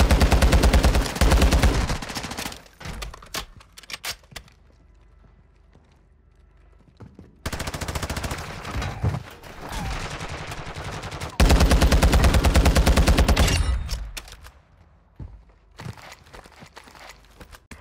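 Bursts of automatic gunfire in Warzone 2.0 come in loud, rapid stretches separated by quieter gaps that carry faint footsteps and movement.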